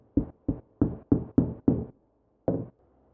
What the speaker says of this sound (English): grab a socket and give it a couple taps with a rubber mallet